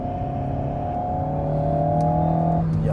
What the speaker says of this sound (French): Alors le moteur reprend bas.